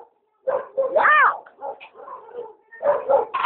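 A big dog barks near the mic outdoors, giving a few loud, throaty barks mixed with a yelping whine, with a short pause before more barking.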